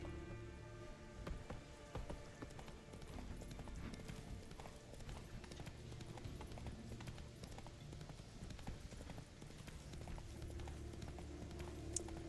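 Clip-clop of the horse Roach galloping in the video game The Witcher 3, a steady rapid hoofbeat rhythm running throughout, moderately quiet under a low rumbling game backdrop.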